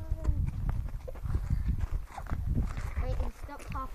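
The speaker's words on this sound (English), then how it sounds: "we patted this goat, now it's following us" Hooves of a wild goat clip-clop on the ground as it follows walkers through the bush. The steps are close, irregular and fairly loud, and people talk over them throughout.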